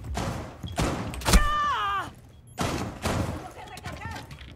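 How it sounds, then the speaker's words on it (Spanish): Gunfire in the Rainbow Six Siege video game, several sharp bursts and thuds spaced apart, partly buried under someone talking excitedly in Spanish. "Me está disparando"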